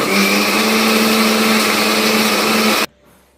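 A mixer grinder blends coriander chutney with a loud, steady high-pitched whir for nearly three seconds, then cuts off abruptly into quiet.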